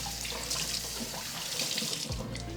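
Tap water running steadily into a sink to wet down fabric before natural dyeing, a continuous close hiss and splash that shifts slightly near the end.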